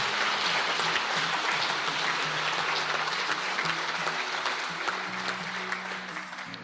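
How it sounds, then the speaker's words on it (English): Sustained audience applause at the QBANK Everyday Heroes Awards 2021, a dense, steady wash of clapping from a crowd that holds evenly for several seconds and slowly tapers toward the end. "let's clap him anyway because he's going to hear it"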